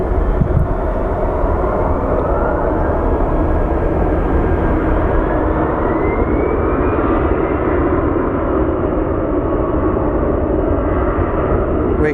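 A wide-body airliner at Phoenix Sky Harbor airport makes a loud, sustained engine roar with a slowly rising whine, steady and close throughout, while a voice talks faintly underneath.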